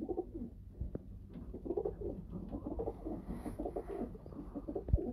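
Pigeons in a rooftop loft of breeder pairs coo steadily in low repeated murmurs, several birds overlapping close by with a few sharper calls and soft rustles throughout.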